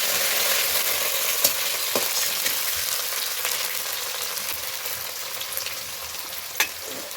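Food fries in a pan with a steady, dense sizzle that runs throughout, broken by a few faint clicks from stirring.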